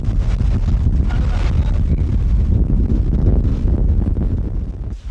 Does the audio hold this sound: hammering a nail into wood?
no